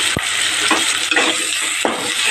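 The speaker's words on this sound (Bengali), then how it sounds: "নুন হলুদটা দিয়ে দিলাম এবার একটু ভাজা করে নেব পেঁয়াজটা" Onion frying in a pan with salt and turmeric, a loud, close, continuous sizzle broken by a few sharp scraping stirs of the spatula, no speech.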